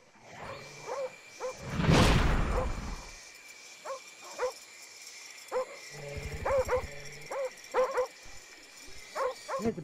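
In the Call of Duty Black Ops video game, a dog barks and yips in repeated short bursts over about ten seconds, with a louder rushing burst early on and someone talking in between.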